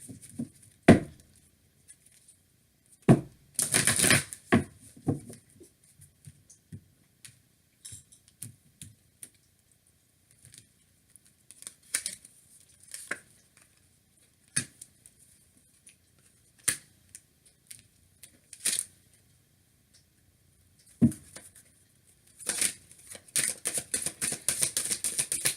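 Tarot cards are shuffled and handled in short, crisp bursts of snapping and flicking separated by quiet gaps, ending in a rapid fluttering riffle, with no voices.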